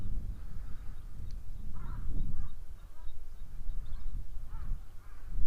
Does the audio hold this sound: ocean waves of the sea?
no